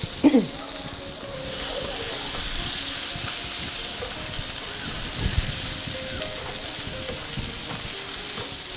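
Brinjal frying in a pan as the lid is lifted and the pieces are stirred, with a clank at the start, a steady close sizzle and occasional scraping, while someone talks.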